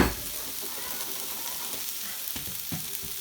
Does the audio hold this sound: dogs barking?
no